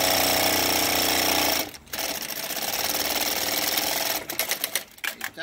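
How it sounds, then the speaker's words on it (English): An AT 9303-D3 industrial sewing machine tacks and trims thread: a loud, rapid mechanical hammering run stops abruptly, then resumes with a lighter whir and a few sharp stitching bursts and clicks near the end. "So I'm gonna demonstrate the machine right now. And it tacks, it starts tacking."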